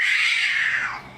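A cat meowing in a played video, one drawn-out, high, wavering meow that fades at the end, loud and alone.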